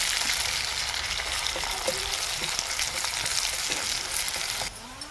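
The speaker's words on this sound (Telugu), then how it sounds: "కొంచెం ఉల్లిగడ్డ వేగాలి." Thinly sliced onions fry in a pan with a dense, steady sizzle and crackle, up close, until it suddenly drops away near the end.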